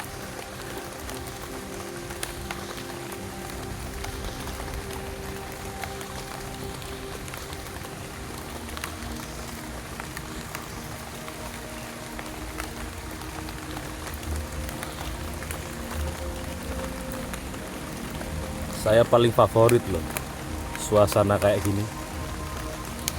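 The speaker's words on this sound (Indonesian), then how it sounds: "gerimis ini ya, nggak hujan sih, gerimis" Light drizzle falling in a forest, a faint steady patter spread across the background while a person talks nearby, with a couple of louder rustling bursts near the end.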